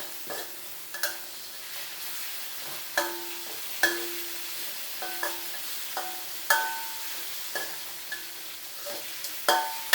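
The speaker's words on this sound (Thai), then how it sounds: "เราจะผัดให้พริกกระเทียม ส่งกลิ่นหอมก่อนนะครับ" Chili and garlic stir-fried in a pan, followed by shrimp, with a soft frying sizzle under repeated sharp clinks and scrapes of a utensil against the pan at an irregular rhythm, close and with no talk.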